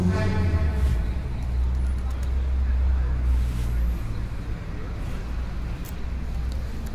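Loud street traffic with cars and trucks rumbles past close by, a heavy low drone that swells and eases as vehicles pass, with brief higher whooshes.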